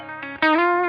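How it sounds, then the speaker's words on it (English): Electric guitar through a Fender Tone Master Pro modeling a Deluxe Reverb amp, a brief pick scrape followed by a loud ringing chord that sustains evenly. "The Deluxe Reverb."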